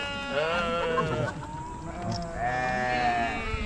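Goats at a sheep farm in Gapyeong bleat nearby in two long, wavering cries with a brief pause between them, loud and close, with faint farm background.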